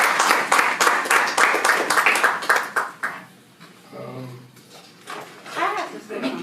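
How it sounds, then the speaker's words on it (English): A school board meeting crowd claps in a dense, continuous burst of applause that fades after a few seconds, followed by murmuring voices and a brief renewed patter of clapping. "let's give them another round of applause."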